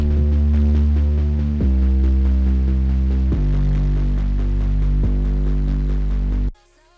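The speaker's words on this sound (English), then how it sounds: "Together they now sound like this." A buzzy saw bass layered over a booming 808 sub bass plays sustained future bass notes that shift pitch every couple of seconds, thick and loud before cutting off.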